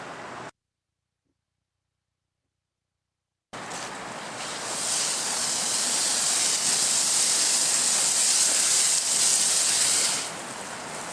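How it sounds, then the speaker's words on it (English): Water surges through a hose once the supply is turned on, in coal-handling hazard equipment: a sudden loud, steady hissing rush that holds for several seconds, then eases slightly. "We turn the water on."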